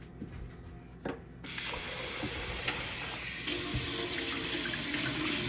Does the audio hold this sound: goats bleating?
no